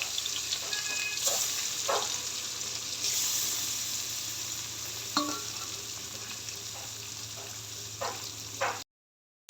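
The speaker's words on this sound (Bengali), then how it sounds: "এবার মাছগুলা ভেজে নিব" Rohu fish sizzles steadily in hot oil in a wok, a dense crackling hiss with occasional light clinks and scrapes, then cuts out abruptly at the end.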